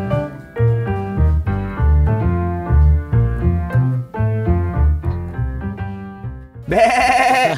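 Goats bleat repeatedly on a cattle and goat farm, loud and close, with a steady run of wavering calls and one harsher, higher cry near the end, and no talking.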